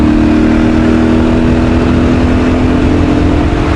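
KTM 500 EXC-F dirt bike accelerating in sixth gear at speed, a loud, steady engine drone with a sustained tone and heavy wind rush, heard close up with no talking.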